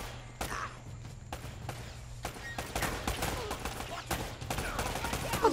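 Gunfire in the Uncharted action video game, a few sharp shots scattered through steady game ambience and a low hum, with a voice talking faintly in the background.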